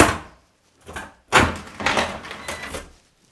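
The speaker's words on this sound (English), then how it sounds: "It's the door shutting" A door shutting in an old pub's bar area, a few soft knocks followed by a louder bang and rattling as it closes, heard nearby in a quiet room.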